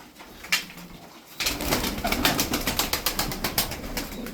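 Sütbeyaz pigeons flutter and bustle close by, a sharp flap near the start followed by a dense run of repeated wing claps and scuffling, with faint cooing underneath.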